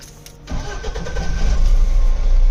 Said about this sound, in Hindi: वैसे तो इंजन हो चुका है स्टार्ट, रेस लेते हैं।